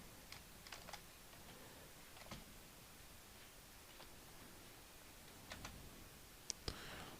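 Text being typed on a computer keyboard, heard as faint, sparse, scattered key taps with long quiet gaps over a low hiss, ending with a couple of sharper clicks.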